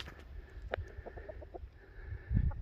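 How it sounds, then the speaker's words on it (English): Chickens cluck softly nearby in short, scattered calls over low rustling background noise of raking aged woodchips. "the chickens will come behind us really close to the rake"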